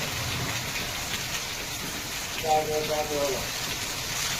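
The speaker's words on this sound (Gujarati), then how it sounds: "ધોમ વરસાદ પડે ધોરાજી ની અંદર" Heavy monsoon rain pours down on a village in Dhoraji, Gujarat, in a constant dense hiss, with a brief voice rising faintly partway through.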